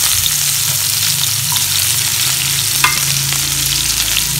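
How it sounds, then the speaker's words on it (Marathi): Chopped onion hits hot oil in a kadhai while sambar is being made, giving a loud, steady, close sizzle that crackles on without a break and with no voices. "आपण कढईमध्ये तेल टाकून गरम करून घेतलेलं आहे। त्यामध्ये कांदा टाकतो,"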